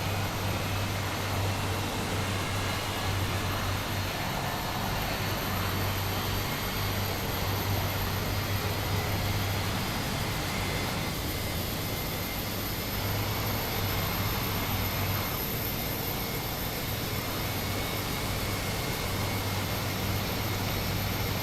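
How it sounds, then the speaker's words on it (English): Jet engine on a Jetstar airliner spooling up as engine number 2 starts, a steady broadband roar with a sustained high whine, heard from inside the cabin and continuous throughout. "And we'll start our engine number 2 first"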